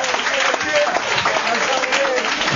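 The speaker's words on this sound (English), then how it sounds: "Keep clapping, keep clapping, keep clapping." Audience clapping at a stand-up comedy show, a steady dense wash of applause from a crowd that carries on throughout without a break.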